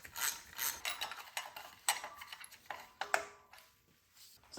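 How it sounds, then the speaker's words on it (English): A ratchet clicks close up as the accessory belt tensioner comes off a BMW N55 engine in a 335i wagon, with quick runs of pawl clicks and short pauses and no talking. "So we'll start by taking this tensioner off."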